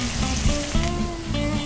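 Prawns sizzle in a little olive oil in a hot pan, a loud continuous crackling fry with brief stirring clatters.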